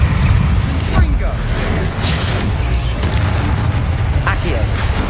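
Confringo blasting spell explosions in the Hogwarts Legacy video game, heavy booming bursts layered over a constant loud rumble of game effects, with a voice calling out spell names through the clip.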